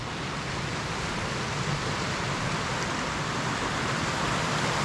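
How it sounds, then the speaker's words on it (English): Large glacial river in Iceland rushing downstream toward a waterfall, a constant loud broadband roar of flowing water with wind noise mixed in, steady and unbroken throughout. "There's a big river running down right here."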